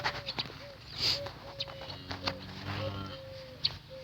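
Gurk chickens and an 8–9 month old rooster make a series of short clucks and calls in a farmyard, close and fairly quiet, over faint background noise without speech.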